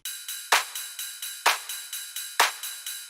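Ride cymbal drum loop in an electronic track breakdown: bright, shimmering metallic pings on a steady pulse, with three heavier accented strikes spaced about a second apart, the wash ringing continuously between hits.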